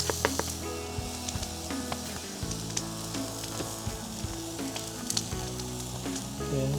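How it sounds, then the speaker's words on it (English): An onion cooking down on a hot grill, with a constant close sizzle and crackle plus scattered pops and scraping ticks, steady in level and with no speech. "we're going to start by cooking down the onion"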